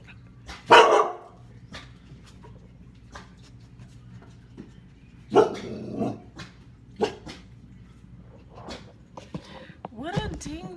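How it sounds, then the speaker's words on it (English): A dog named Sucio barks at a plant in a corner of a room, sharp loud barks in scattered bursts with quieter gaps, one near growl-like, and a person talking softly in between. "He's barking at the plant in my corner."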